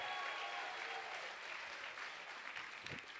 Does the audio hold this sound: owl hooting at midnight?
no